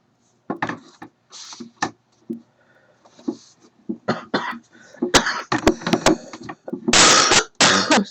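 One person coughs and clears their throat several times in short bursts, close and fairly loud, between quiet pauses and small handling noises.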